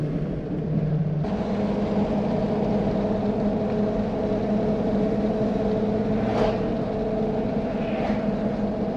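A lifted truck on bigger tires cruises straight down the road with a steady, loud cabin drone of engine and tire roar, heard from inside the cab, with no talking.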